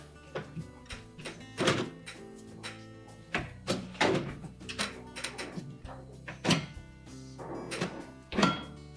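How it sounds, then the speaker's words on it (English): A series of clunks, thumps and light rattles as a Whirlpool dishwasher door is opened during control panel replacement, with several sharp knocks spread irregularly across the clip. "We'll now open that door back up."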